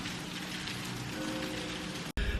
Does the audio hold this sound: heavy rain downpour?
yes